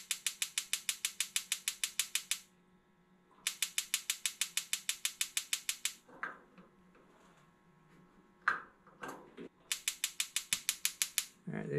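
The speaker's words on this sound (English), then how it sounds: "you push it down, you hit the igniter." The igniter on a Dyna-Glo ventless 30,000 BTU infrared garage heater clicks in fast, even runs with a pause between them, then handling noises and a few thumps, then another run of rapid clicks.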